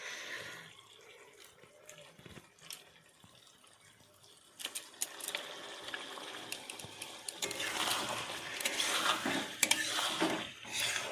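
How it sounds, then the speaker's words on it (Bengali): Vinegar poured into a spiced amla (Indian gooseberry) pickle mixture in a kitchen, a soft steady liquid trickle growing louder toward the end, with light clinks of utensils and dishes around it. "দিয়ে দিচ্ছি 1 সিপি ভিনিগার।"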